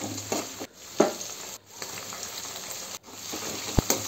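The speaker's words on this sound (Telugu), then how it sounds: "పల్లీలు కొంచెం ఫ్రై అయ్యాక ఉల్లిగడ్డలు, పచ్చిమిర్చి వేసుకోవాలి." Peanuts, onions and green chillies frying in oil for a poha tempering, a soft steady sizzle broken by a few knocks and clinks of a utensil against the pan.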